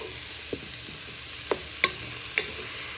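Tomatoes softening in a pan for a chorizo and tomato spaghetti sauce, a low hissing sizzle broken by a few light spoon taps and scrapes as they are stirred, close and without speech.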